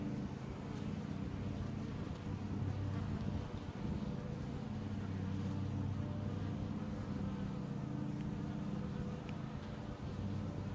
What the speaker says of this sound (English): I sure do enjoy watching the bees.